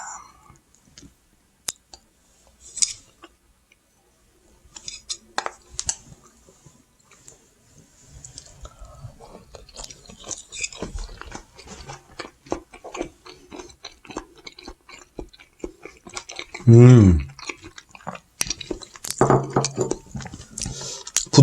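Someone chews aged tuna sashimi, soft wet squishing and smacking bites up close, sparse and quiet at first, then growing more frequent with small clicks and one louder burst partway through.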